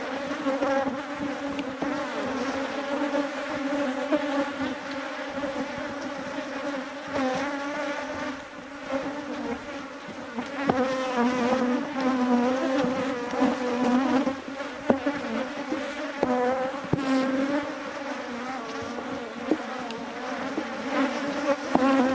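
Honeybees swarm and drone in an opened, very active hive full of brood and nectar, a dense, steady buzz close at hand that swells and wavers as they grow agitated.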